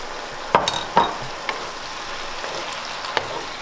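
Thai basil chicken frying in a hot pan as a sauce is poured in, a steady sizzle with a few sharp clinks of a utensil against the pan, close, with no talking.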